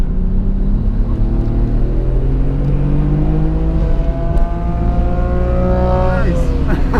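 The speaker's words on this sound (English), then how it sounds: "That K-car is very noisy, it's cool." Noisy K-car engine on the Suzuka race circuit, heard from inside a 1992 Nissan Skyline R32 GT-R: loud continuous engine drone with harmonics rising and falling through gear changes, a higher engine climbing near the end, with talk over it.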